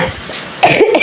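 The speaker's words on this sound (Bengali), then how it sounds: "কাশি, ঠান্ডা লাগে" A single sharp cough bursts out close by, short and harsh, from someone with a cold on a rainy day.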